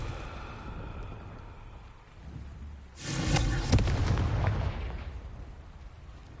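A Confringo blasting spell explodes in Hogwarts Legacy, a sudden loud broadband boom with a rumbling, crackling tail that fades over a couple of seconds, set against quiet game ambience.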